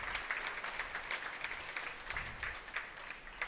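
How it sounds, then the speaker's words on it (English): Audience applause for kids after a fitting contest at a county fair, a fairly faint, distant patter of clapping that continues evenly for a few seconds. "Let's go ahead and give all these kids a round of applause for that."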